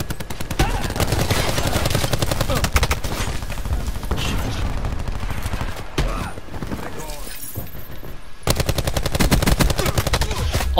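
Call of Duty Black Ops 4 gameplay brings dense, loud gunfire in rapid bursts and near-constant automatic shots, with a short lull before another heavy volley, and a player talks excitedly over it.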